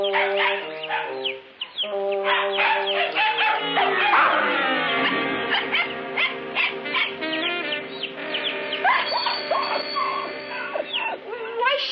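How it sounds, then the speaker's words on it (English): A dog barks and yelps repeatedly at close range amid a busy indoor scene, with music playing underneath throughout. "Shut up, you flea-bitten mutt."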